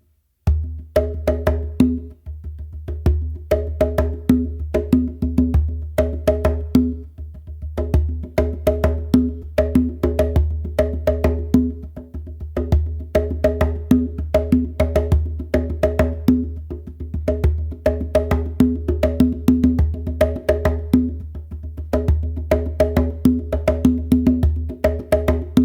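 A bomba/funk groove played on a bingba drum, a steady loop of deep resonant bass strokes mixed with sharper rim and slap hits, running continuously and evenly at close range with no voices.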